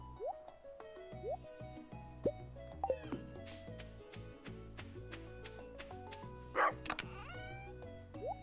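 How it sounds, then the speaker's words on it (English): A dog barks in the farming game Stardew Valley: several short, high, clipped barks come over light game music and small pops and chimes. "Why are you barking? Stop barking."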